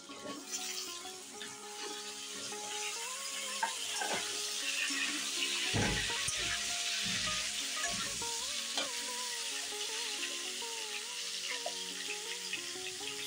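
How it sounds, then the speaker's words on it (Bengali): Potato pieces and chopped bottle gourd fry in a pan with a soft, continuous sizzle and occasional stirring scrapes, fairly quiet, with background music running beneath. "আলুটা একটু ভাজা ভাজা হয়ে গেছে, এর মধ্যেই লাউগুলি দিয়ে ভেজে নেব।"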